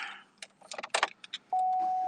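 A set of keys jangles in quick metallic bursts close by, after which a steady electronic chime tone sounds, like a car's key-in-ignition alert.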